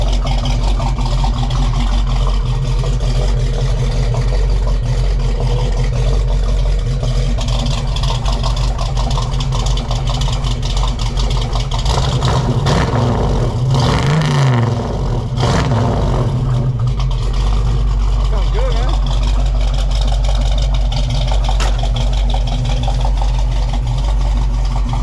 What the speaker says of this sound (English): Right now we got it idling. It sounds really chunky. Listen to that.